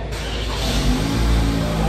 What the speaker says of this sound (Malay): nanti nak start kereta sekarang